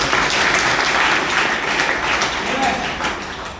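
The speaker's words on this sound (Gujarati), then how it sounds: "એવા મારા ગુરુ સતાન સર માટે પર જોરદાર તાળી છે." An audience in a Gujarati talk setting breaks into sustained, dense applause, many hands clapping at once and filling the whole stretch at a steady loudness before easing off slightly at the end.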